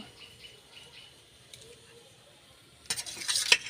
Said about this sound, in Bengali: কড়াই সর্ষের তেল দিয়ে চিংড়ি মাছটা ভেজে নেব